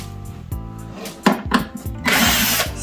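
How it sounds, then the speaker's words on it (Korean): A power screwdriver removing screws from an LG dual air conditioner whirs in short bursts, a few brief runs and then a longer buzzing spin, close and fairly loud. "보이는 피스들은 우리 그냥 전동 드라이버를 사용해서 풀어내면 됩니다"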